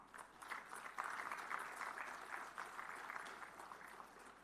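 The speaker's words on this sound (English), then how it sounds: "let us give a loud and heartful round of applause to your parents and families." Applause for parents and families at the WinSYS City Campus graduation ceremony at BMICH: a fairly faint, distant wash of many hands clapping together, swelling slightly and then holding steady without any speech.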